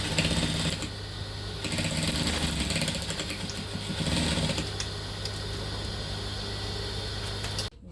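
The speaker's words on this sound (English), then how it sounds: "I'm going to sew it down just on this little, the remaining material after the fold there" A sewing machine stitches down the leftover folded fabric of a headwrap (autogele), running in a steady, continuous whirr that stays close and loud and stops abruptly at the end.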